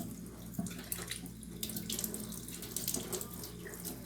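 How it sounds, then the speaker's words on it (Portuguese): Tap water pours into a tube in a steady, close splashing rush with light bubbling, continuous and alone without speech. "Vou encher o tubo de água."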